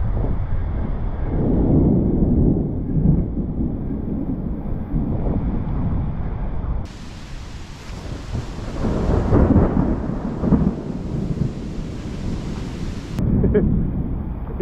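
Deep, rolling thunder from an approaching thunderstorm rumbles through a forest of tall trees by a creek and waterfall, sustained and loud across the whole stretch, with rain and wind noise hissing over the microphone in the middle section.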